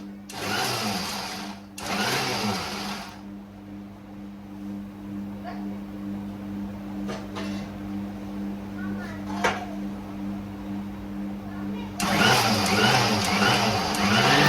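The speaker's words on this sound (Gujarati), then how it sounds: "હવે મિક્સરના માં દાણા નાખી અને આપણે તેનો ભૂકો કરી લઈએ" A mixer grinder grinding peanuts whirs loudly in two short bursts, then a long lull with a low hum, then it roars again at the end.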